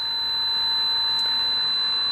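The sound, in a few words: EcoNet Bulldog smart water leak alarm sounding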